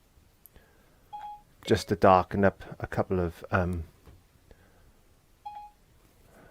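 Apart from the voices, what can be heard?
phone beeping with dialing tones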